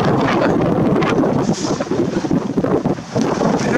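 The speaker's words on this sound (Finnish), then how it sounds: "Kyllä täältä ulkoilta löytyy tuulta." Strong wind buffeting the microphone aboard a sailboat out on open water, a loud continuous roar with gusty surges and faint wave wash beneath, no talking.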